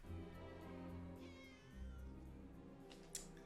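Several cartoon cats in Batman: Caped Crusader meow and yowl in drawn-out, wavering cries, overlapping one another, with a brief sharp noise near the end.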